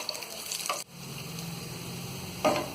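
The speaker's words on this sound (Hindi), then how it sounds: "कटा हुआ लहसुन को डाल देंगे। लहसुन को हल्का सा हम फ्राई करेंगे।" Chopped garlic fries lightly in a pan for chana bhaji with a soft, steady sizzle. A couple of brief stirring scrapes break in at the start and near the end, fairly quiet, with no voices.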